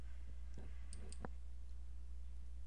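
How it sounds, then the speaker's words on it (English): A few sharp computer mouse clicks, close and fairly quiet, made while working in fashion design software, with a steady low background hum and no talking. "I can click on the plus."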